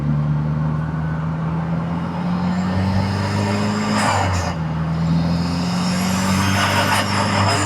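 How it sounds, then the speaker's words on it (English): Cabin noise inside a Toyota MR2 20v turbo while driving, with the original bulkhead removed: a loud, steady engine drone with shifting pitch as revs rise and fall, plus road and wind roar throughout, no talking. "this car is louder inside because I removed the original bulkhead"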